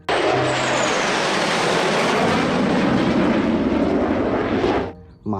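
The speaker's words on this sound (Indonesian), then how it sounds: "Wehehe, ada pesawat tempur." Loud, steady roar of a fighter jet engine, played as a sound effect by a toy vehicle, holding for about five seconds and then cutting off abruptly, with no talk over it.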